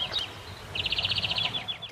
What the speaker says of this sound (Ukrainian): Лише птахи співають, як несамовиті.